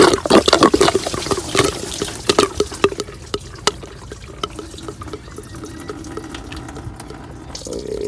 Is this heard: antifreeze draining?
yes